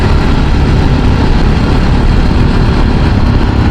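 A motorcycle engine drones loudly and steadily while riding along a smooth, pothole-free coastal road in Konkan, with a constant rumble and broad road and wind noise throughout and no voices.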